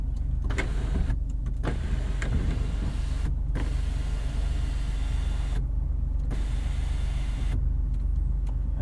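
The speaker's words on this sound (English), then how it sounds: "We've got sunroof controls right here." Motorized dual-pane panoramic sunroof of a 2023 Maserati Grecale Trofeo sliding open, a steady low whirring drone heard from inside the cabin with a few faint clicks, continuous for several seconds with no talk.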